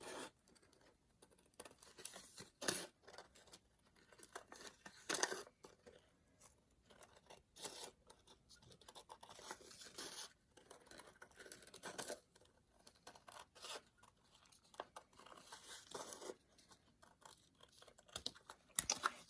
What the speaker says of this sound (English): cut off the rim of the hat